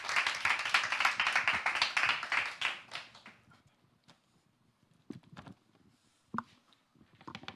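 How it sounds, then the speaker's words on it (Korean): A church prayer-meeting audience claps together for about three seconds, dense and fairly loud, then the applause fades to quiet with a few scattered taps and bumps. "뜨거운 환영의 박수로 맞이해 주시고"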